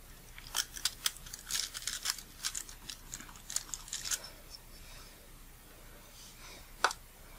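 A glass cutter scoring a sheet of glass gives a run of sharp, crisp scratchy ticks and crunches in irregular bursts, close by, with one louder snap near the end and no talk.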